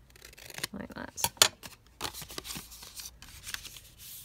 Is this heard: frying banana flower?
no